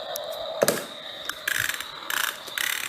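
A Dirt Devil Junior toy upright vacuum cleaner with lights and sounds gives off a run of clicky, ratcheting mechanical bursts and whirs, close by, with no talk over it.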